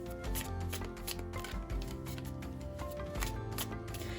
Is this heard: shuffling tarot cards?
yes